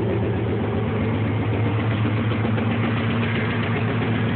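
A 1996 Chevrolet Camaro SS idles with its engine misfiring after warming up and an exhaust leak, a loud, close, continuous rumble with uneven low pulsing and no talking.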